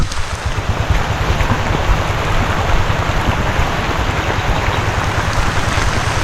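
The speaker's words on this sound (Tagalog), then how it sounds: "Tagos na yung ulan na yan. Ah, lakas pa." Heavy rain pours down on a sweet corn field, a dense, steady drumming hiss that stays loud and close throughout without any voices.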